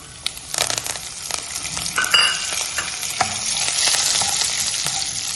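Urad dal, dried red chillies and curry leaves fry in hot oil for a coconut rice tempering, crackling and sizzling close up with scattered pops and stirring scrapes that build toward a steady hiss.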